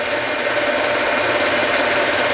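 A metal lathe takes a slow finish cut along a metal workpiece, giving a steady, close mechanical whir with a faint tonal hum and no pauses.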